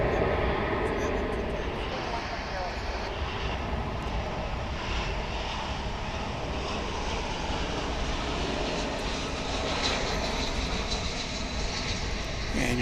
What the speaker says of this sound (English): we take a look at American Flight 1215 rocketing off to Puerto Vallarta in Mexico